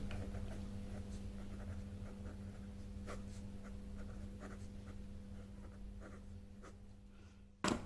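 A pen scratches steadily across paper or board while a math formula is written out, with faint irregular strokes over a constant low electrical hum and no talking.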